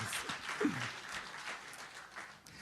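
A round of applause from a crowd, steady clapping that swells briefly and then carries on at a moderate, somewhat distant level.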